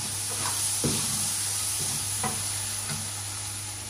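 Tomatoes sizzle and fry in a pan, with a steady broadband hiss of oil and a few soft stirring scrapes scattered throughout.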